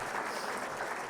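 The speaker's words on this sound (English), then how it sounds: "Round of applause for Maddie and that whole team." A brief burst of dense audience applause at a university athletics scholarship celebration, steady and even, many hands clapping together at a moderate distance.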